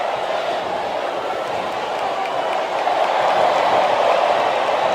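Steady roaring arena crowd from the WWE SmackDown vs. Raw 2008 wrestling video game, a dense, continuous wash of cheering that swells slightly toward the end.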